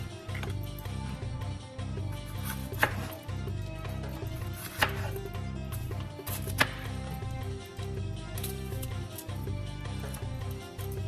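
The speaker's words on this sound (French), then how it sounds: "je pense que je vais couper un autre demi-morceau" Bell pepper being sliced on a board for a Moroccan fish tagine, soft repeated knife cuts with a few sharper taps, steady and close over a low background hum.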